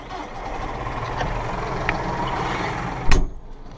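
A Massey Ferguson 5610 tractor engine cranks and catches with a sharp loud burst near the end, after a low idle-like rumble and faint clicks close by.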